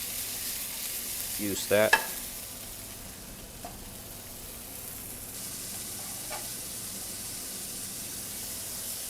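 Cherry tomatoes hit a hot skillet still coated from blackened salmon, giving a short burst of sizzling followed by a soft, steady frying hiss, with a brief voice near the start.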